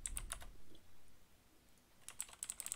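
Typing on a computer keyboard, a quick cluster of close keystrokes at the start, a quiet pause, then a faster run of clicks toward the end.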